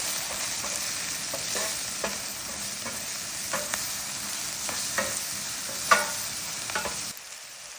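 A chicken dish with tomato paste, spicy seasoning and garbanzos fries in a pan, with a steady sizzle under repeated scraping stirs and a few sharper utensil knocks, the sizzle cutting off at the end.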